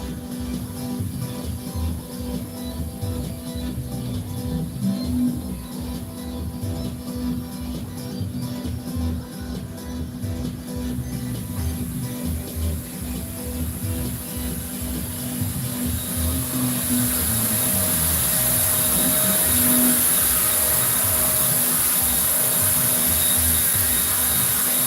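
Blackout screen paint hisses steadily from a sprayer onto a 120-inch projector screen, a loud, continuous spray that grows slightly louder and brighter toward the end.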